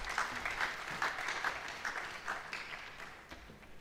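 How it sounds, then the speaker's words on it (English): Applause from an audience at a school presentation ceremony for an award winner, a short stretch of moderate group clapping with some distinct individual claps standing out, fading slightly toward the end. "A big round of applause for Bratil"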